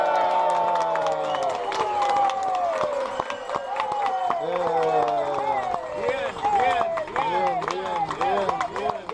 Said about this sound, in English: make a lot of noise, cheer and clap, if you think your table has the best service